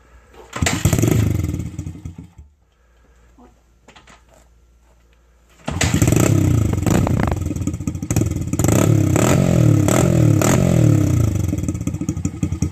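Motorcycle with worn, unrepacked muffler packing: a loud burst, a pause with faint idle, then the engine fires and runs loud and raspy with repeated revs, close by, no talk.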